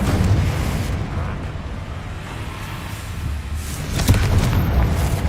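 A Confringo blasting spell in a wizarding-school action game erupts into a loud, sustained roar of rumbling explosive noise that swells again near the end, with no voices.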